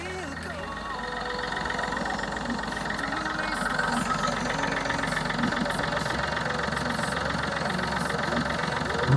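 A 2012 Chevrolet Beat LT diesel engine idles steadily with a knocking, vibrating rhythm, recorded close to the engine bay as a person talks over it.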